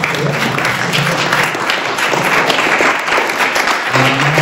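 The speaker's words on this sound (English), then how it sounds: "We'll give him a round of applause." A church forum audience gives a round of applause: dense, steady clapping from many hands fills the space continuously for several seconds at a fairly loud level.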